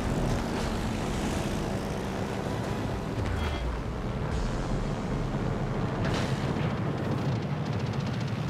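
Propeller aircraft engines drone in the naval battle game World of Warships: Legends, a continuous loud roar with low rumbling blasts and bursts that rise and fade over several seconds, no voices.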